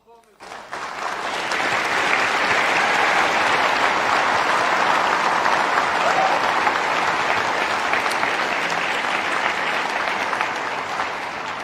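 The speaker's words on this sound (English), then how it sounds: "So the little girl is clapping and clapping" Large audience applause at a talk with Sadhguru and Carice van Houten, swelling quickly after a faint voice and holding as a loud, steady roar of many hands clapping throughout.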